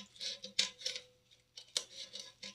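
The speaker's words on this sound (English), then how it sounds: "take your scissors, snip down" Scissors snipping slits into paper, several soft crisp cuts in two quick clusters, close and quiet in an otherwise still room.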